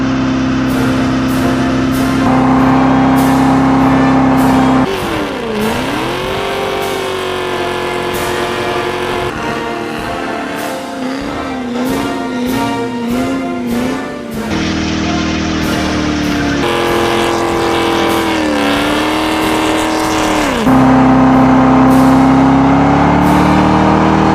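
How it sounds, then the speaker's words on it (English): Corvette doing a burnout, its engine revving hard with loud sustained roaring, pitch swooping up and down, wavering rev surges in the middle and steady high-rpm howls at either end, close and continuous. "Which Corvette burnout is best Corvette burnout?"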